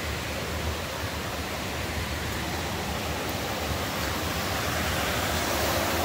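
Water from the Forestport Feeder canal pours out of the Black River Canal into the LansingKill in Boonville Gorge, a loud, constant rushing roar with no letup.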